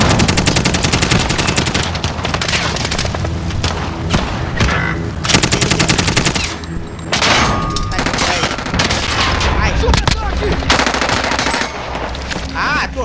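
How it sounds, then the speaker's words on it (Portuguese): Video game gunfire during a live multiplayer session: dense, loud bursts of automatic fire rattle almost nonstop, with brief pauses and a few heavier booms. "Estão atirando em mim."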